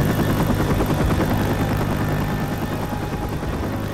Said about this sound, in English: Get on the helicopter before we die again.